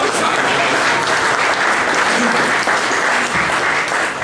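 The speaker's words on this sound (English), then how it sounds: "Give her a big clap, everybody" An audience claps loudly and steadily for a few seconds, a dense, continuous wash of hands close by.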